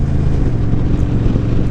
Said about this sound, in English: stock exhaust sounds like a fucking sewing machine